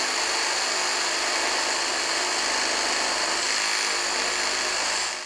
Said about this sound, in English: I also tried to push the reciprocating saw to its limits